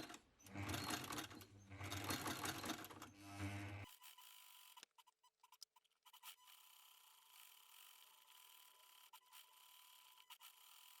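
A vintage Singer sewing machine stitches a buttonhole through two layers of interfaced cotton fabric, running loud and steady for about four seconds before stopping, followed by faint clicks and quiet handling sounds.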